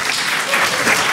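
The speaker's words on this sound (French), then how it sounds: "merci de vos applaudissements" Audience applause at a talk on cities from antiquity to today, a steady dense patter of many hands clapping close by, filling the whole short moment without a break.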